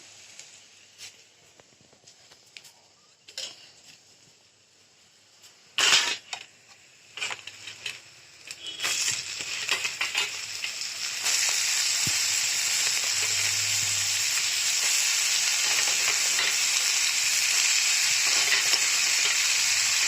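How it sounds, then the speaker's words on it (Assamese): Pumpkin hisses and sizzles loudly in a hot pan, a few clatters and stirring knocks at first giving way to a steady, close, continuous frying roar. "ইয়াতে এবাৰ ৰঙালাওখিনি মই দি দিম"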